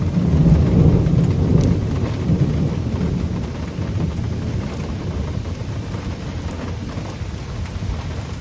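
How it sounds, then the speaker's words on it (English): Heavy rain pours outside an open door in a thunderstorm, a loud, dense hiss of rainfall with low rolling thunder swelling at the start, then a steady downpour throughout. "Too much rain to have the door open."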